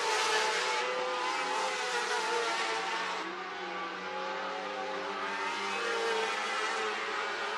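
A race car laps Needmore Speedway in Norman Park, Georgia, its engine roaring at high revs and rising and falling in pitch as it runs through the corners, heard continuously from a distance.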